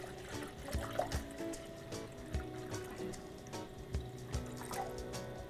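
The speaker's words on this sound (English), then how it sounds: "I'll put a pot of water in" Water poured into a pot for a camping stove boil test at a Fire Maple stove setup, a quiet trickling and dripping stream with small repeated splashes, no talking.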